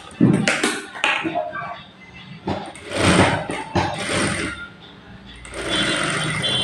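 A sewing machine stitches fabric in short, uneven bursts of mechanical whirring and clatter, stopping and starting, with a voice talking at times in between.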